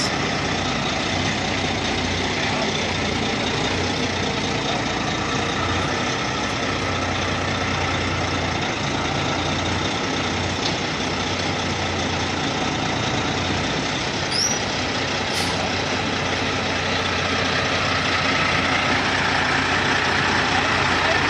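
A heavy truck engine idles steadily while hauling a mobile home out of a residential lot, a continuous low rumble running through the whole stretch, with a brief hiss like an air brake near the middle.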